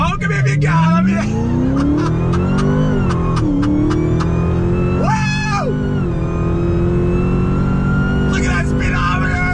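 A 2020 Dodge Charger Hellcat Widebody accelerates hard on throttle along an open road, its engine roaring loudly and rising through several revving surges and gear changes, with people talking over it.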